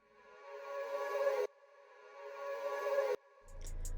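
A thunder sample played in reverse and cut to a short section: two swelling, rumbling surges that build and stop abruptly, followed by a brief burst of pitched, sustained tones with a deep low hum, alone with no talk.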